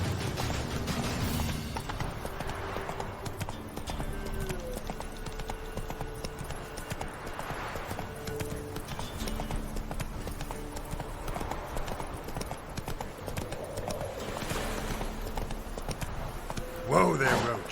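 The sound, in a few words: horse Roach galloping hooves in the video game The Witcher 3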